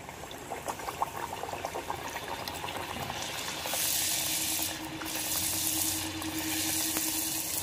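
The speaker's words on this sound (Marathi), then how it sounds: "त्याच्यामध्ये आता आपण पुऱ्या तळून घेऊया" Mung dal puris deep-fry in hot oil in a kadhai, a steady bubbling hiss that swells louder midway as fresh dough hits the oil, with no voices.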